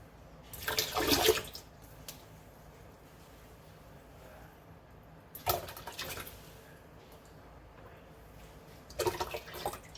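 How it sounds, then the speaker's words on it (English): Canned coconut milk poured over sticky rice for suman malagkit, heard as three separate splashy pours of about a second each, with quiet pauses between them. "3 cans of coconut milk right here. Okay. I'm gonna add that to the rice."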